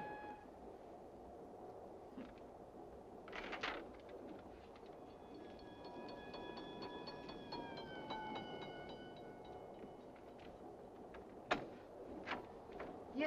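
Train running as a radio drama sound effect, a steady low rumble of rolling wheels and carriage noise with faint clanks and a brief whistle-like tone in the middle, heard alone at low level.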